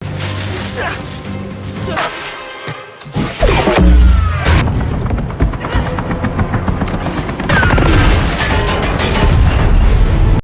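Loud booming blasts and crashing impacts, like a cannon firing, over dense music and effects, with a heavy burst around the middle and continuing rumble.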